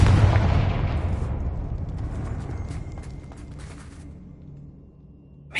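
A Confringo fire spell in Hogwarts Legacy bursts loudly at the start, its booming blast decaying into a long rumbling fade, with a sharp new impact right at the end.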